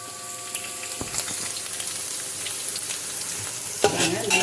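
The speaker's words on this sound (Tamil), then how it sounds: "ஒரு 2 நிமிஷம் 3 நிமிஷம் நல்லா வதக்கிட்டு அதுக்கு தேவையானது ஆட் பண்ணிக்கணும்." Curry puff potato filling with chilli and curry leaves frying in a pan: a continuous close sizzle with stirring and scraping throughout, a brief tonal clink near the start, no talk.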